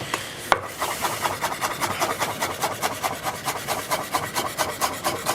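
A knife chops parsley finely on a board in a rapid, steady rhythm of light taps and scrapes, close and continuous, with no talking.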